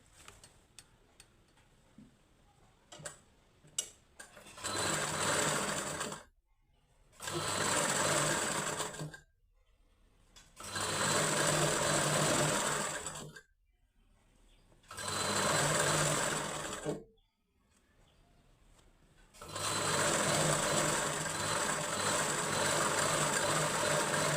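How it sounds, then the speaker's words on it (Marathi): An electric sewing machine stitches a folded fabric strip for a katori blouse in four or five steady runs of rapid, even whirring, each lasting a few seconds, separated by short quiet pauses with faint handling clicks. "त्यानंतर ही पट्टी अशी फोल्ड करून घ्यायची आहे मधल्या साईडने आणि इथून शिलाई मारून घ्यायची."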